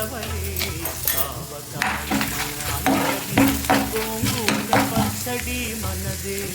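Urad dal, chana dal, mustard seeds, cumin and dried red chillies tempering in hot oil for a tomato chutney, with steady crackling sizzle and repeated stirring scrapes close by, busy and continuous throughout.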